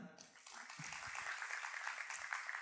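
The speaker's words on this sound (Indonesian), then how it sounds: "Bisa kasih tepuk tangan?" A church congregation applauds, a faint, steady patter of many hands clapping heard from a distance, with a few low murmurs underneath.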